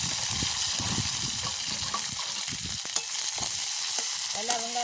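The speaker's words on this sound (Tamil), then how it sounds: "எல்லா வெங்காயம் பொரியட்டும்." Onions with mustard seeds and fennel sizzle and fry steadily in a pan, a dense continuous crackle with occasional stirring scrapes, close and alone.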